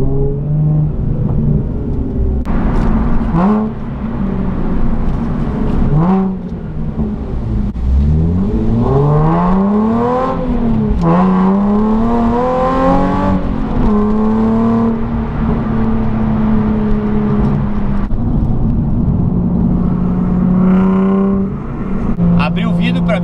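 A car fitted with a new aftermarket exhaust accelerates through city streets, heard from inside with the window open, engine note rising and falling through several gear pulls, loud and close, with someone talking over it.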